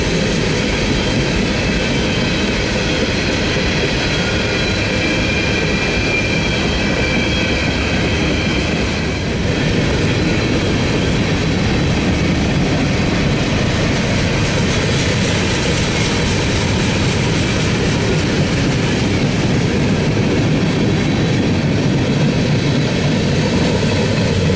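A 211-car CSX freight train passes on the A Line, a loud, continuous heavy rumble and rolling roar of railcars that holds steady throughout, with no voices.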